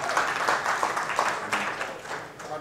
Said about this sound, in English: Hardwired to meet up where we clap before you even say anything.